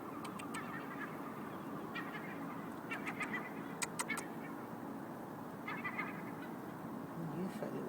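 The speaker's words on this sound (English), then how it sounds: "It's a baby seagull." A fluffy baby seagull that has come down off a roof gives short, thin peeping calls in scattered bursts, some quickly repeated, fairly faint against steady outdoor background noise.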